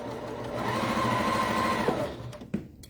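Sewing machine running steadily for nearly two seconds while stitching a scant quarter-inch seam in fabric, a close, even motor whir with a faint high whine, then stopping with a couple of soft clicks.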